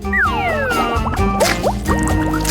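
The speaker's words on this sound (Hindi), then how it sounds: "केकड़े को गर्म पानी में डुबोना होगा" A crab is dipped into hot water, giving close liquid splashing and gurgling drips over a steady background of tonal sounds.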